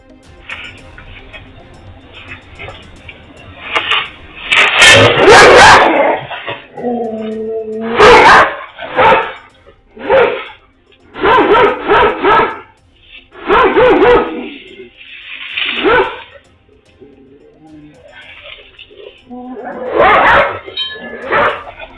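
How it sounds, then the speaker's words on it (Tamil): Street dogs bark loudly and repeatedly in a residential area near Mettupalayam as they chase off a lone wild elephant, with several overlapping barks and yelps in bursts and brief pauses between them. "பாகுபலியையே பதறி அடித்து ஓடவிட்ட தெருநாய்கள்."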